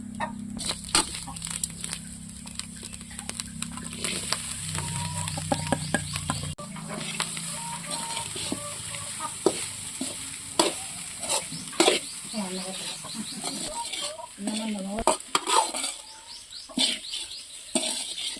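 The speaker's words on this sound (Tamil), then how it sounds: "புட்டு மாவை போட்டு வணக்கலாம்." Puttu flour is stirred and roasted in a pan, giving repeated scraping strokes and soft crackles in an irregular rhythm, with some voices and background sounds mixed in.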